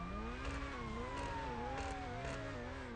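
A car engine and exhaust in a video game, a faint steady engine tone that slowly falls in pitch, with quiet revving surges under it, no talk.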